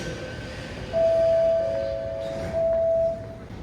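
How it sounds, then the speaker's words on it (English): A metro train's door-closing chime sounds twice as steady tones over the low rumble of the carriage. "Train doors closing."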